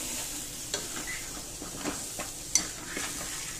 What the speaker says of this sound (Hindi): ये हो गया हमारा रेड पेस्ट, इसको अच्छे से चलाते रहेंगे